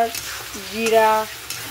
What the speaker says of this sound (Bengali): মাংসটা কষানোর জন্য আগে মশলাটা কষিয়ে নিয়েছি